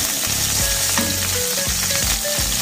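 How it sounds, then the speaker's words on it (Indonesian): Spring onions stir-frying in a hot pan, a loud dense continuous sizzle close up with scraping and clanking of a spatula against the pan through the short stretch, no voices. "Nah, daun bawangnya kita tumis."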